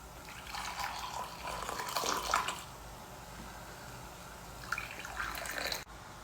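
Tea is poured back and forth between two cups to froth it, giving bursts of splashing liquid, one near the start and another later, with a quieter stretch between them.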